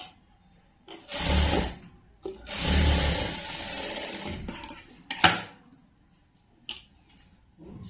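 Sewing machine stitching dress fabric runs in several short bursts of rapid mechanical whirring, separated by quiet pauses, with soft handling clicks between runs.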